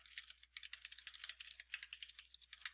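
Someone types on a computer keyboard in a quiet room, tapping out a quick, uneven run of light clicks close to the microphone with no speech over it.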